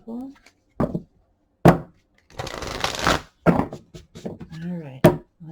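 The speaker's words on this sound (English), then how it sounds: "Okay, final shuffle." Tarot cards are shuffled by hand in short bursts of riffling and slapping, close and crisp, broken up by a voice talking between the shuffles.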